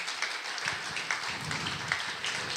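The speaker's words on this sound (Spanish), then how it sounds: "les pido que brindemos un cálido aplauso para recibir a Ernesto Tenenbaum" Audience applause welcomes guest journalist Ernesto Tenenbaum at an evening talk event, a steady, dense round of clapping that holds evenly throughout.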